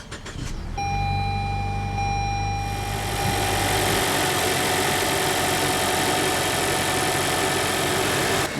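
A 2017 Lexus IS200t engine is started by push button, firing up with a brief surge and then settling into a smooth, steady idle heard close by with no talking.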